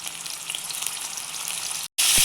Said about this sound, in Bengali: আমরা ফুলকপিটাকে ভেজে তুলে নেব। ফুলকপিটা দিয়ে দিলাম,